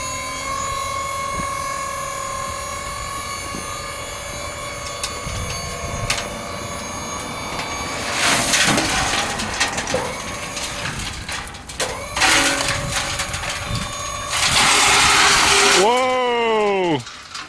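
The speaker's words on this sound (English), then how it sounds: "I'll dump a little to start with and see how much comes out" Ford F650 dump truck tipping its load, a steady engine and hydraulic drone with rising rushing, rumbling bursts as material slides out, close and loud, with a sharp swooping tone near the end.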